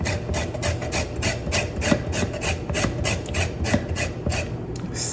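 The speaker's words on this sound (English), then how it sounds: "zesting the key limes. I'm gonna zest about 3, a little bit." Key limes being zested on a grater for a pound cake, a steady run of close, scratchy rasping strokes with a quick, even rhythm and no talking over it.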